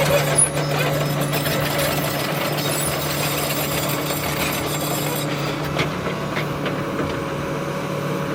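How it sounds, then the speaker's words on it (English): A heavy equipment truck arrives at a rural land-clearing site beside an old church. Its loud diesel engine drones continuously and close by, with rattling and mechanical clatter throughout. "we're getting ready to meet the heavy equipment that's arriving very, very soon"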